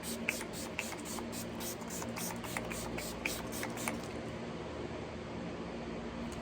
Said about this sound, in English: I'm gonna set it with my all-nighter setting spray